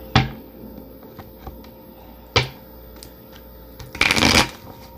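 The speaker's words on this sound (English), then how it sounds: "Hang on, let me shuffle these." Tarot cards being shuffled by hand, with several separate riffle and slide bursts spread over a few seconds, close and fairly loud against a quiet room.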